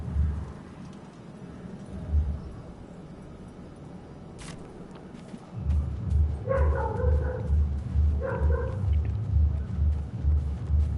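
A dog in the video game Baldur's Gate 3 gives two short, sharp barks a couple of seconds apart over a low, pulsing background rumble.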